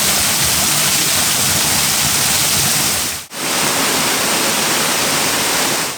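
A seasonal waterfall on a stream in Ashdown Forest, East Sussex, roars as a steady, dense, loud rush of falling water, unbroken apart from one brief cut midway.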